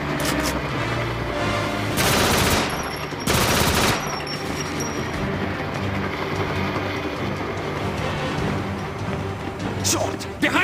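Two loud, dense bursts of automatic gunfire in GoldenEye 007 on the Wii, set in a St. Petersburg train station, each lasting about half a second, followed by a faint sharp shot near the end over steady game ambience and voices.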